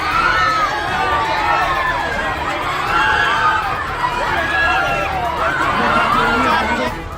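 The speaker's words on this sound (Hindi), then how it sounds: "भीड़ जबरदस्त बवाल कर रही है, हाथों से ना के इशारे कर रही है।" A large crowd in uproar outside a mosque during a confrontation with police, with dense continuous shouting and chatter, women among those pushing at the gate, loud and close throughout.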